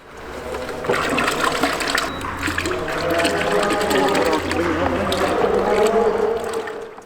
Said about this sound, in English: Notice as she's mixing here, she's swirling around the container to get every last bit of product out.